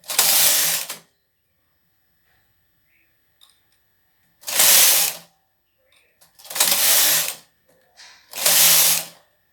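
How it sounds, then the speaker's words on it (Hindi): A knitting machine carriage slides across the needle bed of a woollen-knitting machine in four separate passes, each a loud, rasping mechanical run of about a second, with quiet gaps between them. "देखो ये आप देखते रहो कि कितनी बार ये हमने कैरीज फिरना है"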